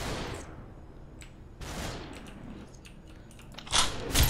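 Gunfire in the video game SUPERHOT, broad bright bursts at the start, around the middle and a louder cluster near the end, with sparse quieter crackles between and no talk.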